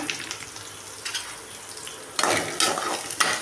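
Chopped onion and curry leaves sauté in a pan with a low, continuous sizzle. Louder bursts of frying and scraping stir strokes swell in the second half, and no one speaks.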